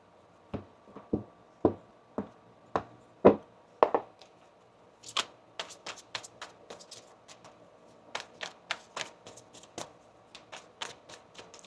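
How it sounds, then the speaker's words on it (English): A tarot deck is shuffled by hand, a series of crisp card slaps and riffles in an uneven rhythm, close and clear with no talking. "Let's just shuffle this deck again for you."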